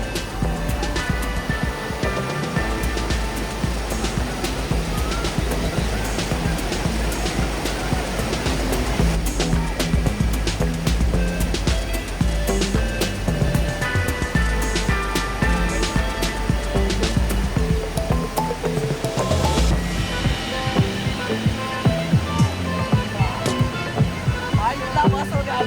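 Water at Aarey dam in Mumbai rushes in the monsoon with a loud, unbroken roar of flow and spray that stays steady throughout.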